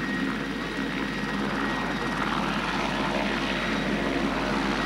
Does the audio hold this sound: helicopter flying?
yes